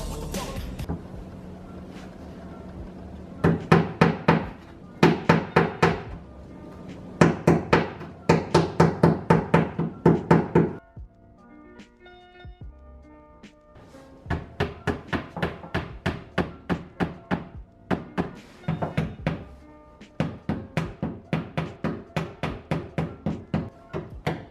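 Finishing nails hammered into closet shelf trim, a series of sharp, close knocking strikes in quick bursts of several blows each, separated by short pauses, with quieter tapping in between.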